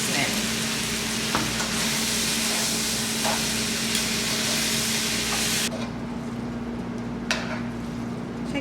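Noodles and fried rice seasoning sizzle loudly in a hot pan while being stirred, a dense continuous hiss with scraping strokes, dropping in intensity partway through and then carrying on more quietly.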